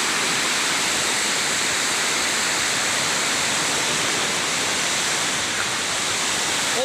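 A waterfall running fuller than usual after its flow has risen, a steady, dense roar of rushing water that stays even and loud throughout with no other sounds standing out.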